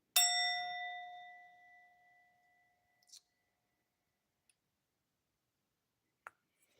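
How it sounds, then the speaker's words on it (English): A small hand bell rung once to clear energy during a live tarot reading gives a bright, clear ding that rings out and fades over about two seconds, followed by a few faint clicks and taps in otherwise quiet surroundings. "Let me clear the energy out real quick. I'm going to ring my bell."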